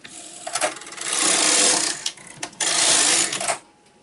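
A knitting machine carriage sweeps across twice, each pass a loud rasping, whooshing slide lasting about a second, separated by a brief pause with small clicks.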